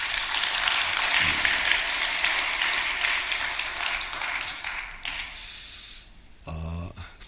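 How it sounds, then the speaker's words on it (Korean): A church congregation applauds its choir, a steady wash of clapping that fades after a few seconds into quieter room sound with a brief voice near the end. "박수 한번 쳐줘"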